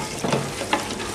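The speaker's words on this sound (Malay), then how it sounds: "So kita kacau cili ni sehingga dia benar-benar garing lagi" Chili paste for rendang stirred and fried in a pan, a brief close scrape of the spoon over a soft steady sizzle with a couple of louder stirring knocks.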